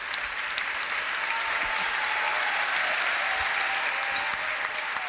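Audience applause at a live French stage event, a dense, steady wash of clapping from a crowd that holds at an even level throughout, with no speech over it.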